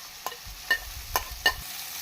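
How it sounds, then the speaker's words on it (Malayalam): Ginger, onion and green chilli fry quietly in coconut oil, with four soft spatula scrapes at a slow, uneven rhythm over a low background sizzle. "ഇത് നല്ലോണം ഒന്ന് വറുത്തെടുക്കാം കേട്ടോ"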